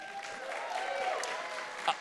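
An audience at a graduation ceremony claps, a brief burst of applause heard at a moderate distance with faint crowd murmur mixed in.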